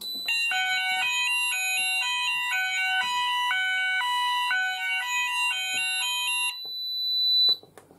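An ESP system detector alarm sounds during a test, a loud repeating electronic tone pattern that steps between pitches in a steady cycle for about six seconds, then stops, followed by a short rising tone and some handling noise.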